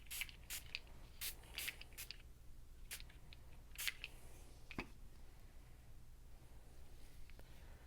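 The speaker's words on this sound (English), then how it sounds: "I'm going to let the mica sprays dry." Mica spray from a small can misted onto paper tags, several short hissing bursts in quick succession followed by a couple of faint puffs against a quiet room hum.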